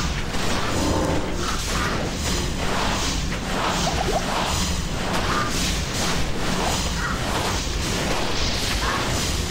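Diablo II combat effects: loud, dense whooshes, weapon swings, clanks and crashing hits overlapping continuously, with no speech.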